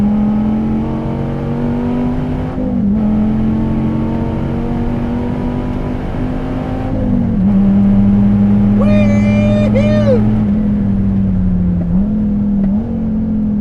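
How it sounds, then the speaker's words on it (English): Dodge Viper TA with a naturally aspirated 8.4-liter engine, DSC Sport tuned, pulls hard around a track, its loud steady drone rising and dipping through shifts and braking, with a brief whining squeal partway through. "Man, that's a fast car."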